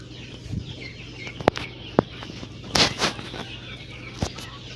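A native country hen, sitting on eggs since morning, gives scattered low clucks and a few sharp squawks close by in a rural yard, with quiet gaps between the sounds.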